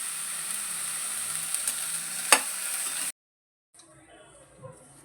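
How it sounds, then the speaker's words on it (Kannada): Brinjal frying in oil, a steady sizzle with a sharp clatter midway, then it cuts out abruptly and returns quieter with faint stirring. "ಈಗ ಒಂದು ಬದನೆಕಾಯಿ ಹಾಕೊಂಡು ಹುರ್ಕೊತಾ ಇದ್ದಾರೆ"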